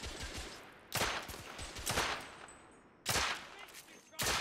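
Pistol gunfire in The Order: 1886: loud sharp shots spaced irregularly, four main bursts about a second apart with a gap near the middle, over a dense background of game noise.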